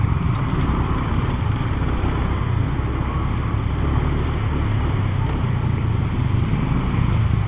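A motorcycle rides through a busy Divisoria street in Manila, its engine a steady close rumble mixed with wind and street noise throughout.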